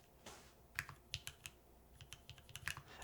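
Keystrokes on a custom Tofu TKL mechanical keyboard, a quick irregular run of crisp clacks at close range, with a few short pauses between bursts and no voices.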